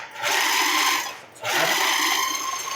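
A food processor pulsing meatball ingredients: two loud whirring bursts of motor noise, each under a second long, separated by a brief pause, with the blades grinding steadily and no talk.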